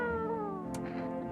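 A cat in a video game meows in a rising, drawn-out cry, fairly close and alone, with a brief faint rustle near the end.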